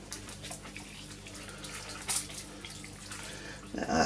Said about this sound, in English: So I've added some more hot water so it doesn't lower the temperature.